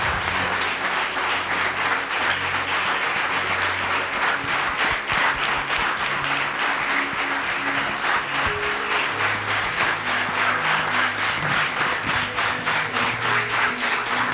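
A church congregation at a Sunday service applauds together, steady dense clapping filling the room without pause from start to finish.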